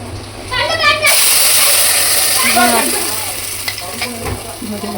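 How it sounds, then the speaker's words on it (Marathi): Water is poured into sizzling fish curry masala with curry leaves in a pan: an abrupt loud rush starts, then a hissing, bubbling spread continues while a person talks over it. "आपल्याला किती पातळ हवंय तसं आपण पाणी टाकायचं आहे त्याच्यामध्ये."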